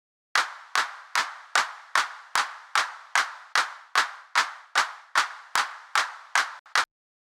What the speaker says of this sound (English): here we go with Parallel Aggressor